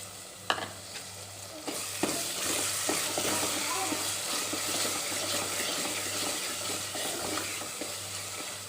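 A paste of ground coconut, sesame seeds, cumin and green chillies sautés in a pan for Kolhapuri misal, giving a soft continuous sizzle with occasional clinks of a stirring spoon, no voices.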